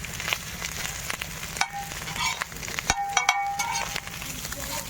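Fish frying in mustard oil in a village outdoor cooking setting, a steady close sizzle with intermittent clinks and stirring scrapes, a few sharp bright pings near the end.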